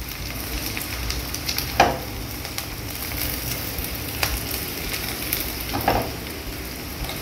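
Mutton gravy ingredients being sautéed in a pan give a steady, close sizzling hiss, with a few sharper stirring scrapes breaking through now and then.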